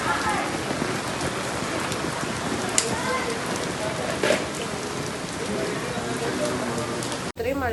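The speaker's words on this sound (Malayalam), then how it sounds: "ഇത്രയും മഴ ഉണ്ടാവും പ്രതീക്ഷിച്ചില്ല" Heavy rain pours steadily outside the Mahalakshmi temple in Mumbai, a dense continuous hiss of drops on surfaces close by, with a few louder splashes and a brief break near the end.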